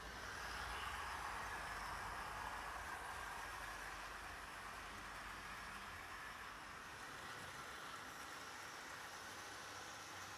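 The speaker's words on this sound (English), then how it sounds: "There we go, Caledonian climbing the hill quite nicely" A model Caledonian locomotive hauling two coaches up a gradient makes a faint, continuous mechanical whir and hum, steady and distant throughout with no voices.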